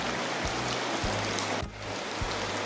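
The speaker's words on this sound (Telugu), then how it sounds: "చూడండి పైనుంచి వాటర్" Steady broadband rush of water falling at Penchalakona waterfalls, loud and close, a continuous hiss with low rumbling thumps, no voices over it.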